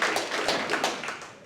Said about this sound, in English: This is where you applaud.